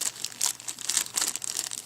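Packaging of a Cyber Acoustics CA-461 iPod speaker dock being unboxed, with close, continuous crinkling and rustling of plastic and paper in irregular bursts, without talk.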